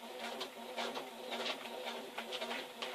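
A sewing machine back stitching through a woven dog food bag, running continuously with a rapid, slightly uneven mechanical chatter at moderate, close volume.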